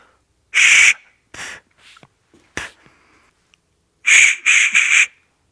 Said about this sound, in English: let's throw this in our whistle and just make sure that it makes a whistle sound